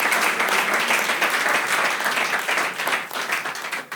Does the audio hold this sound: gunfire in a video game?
no